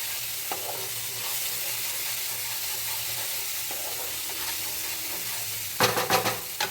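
Fried parshe fish is stirred into red masala in a hot pan with released oil, giving a steady close sizzle and hiss. A short burst of louder stirring scrapes comes near the end.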